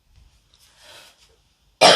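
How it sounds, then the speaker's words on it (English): A single person coughs sharply and loudly at the end after a quiet stretch of soft breathy sounds indoors. "I didn't plan to cough all the way through your reading."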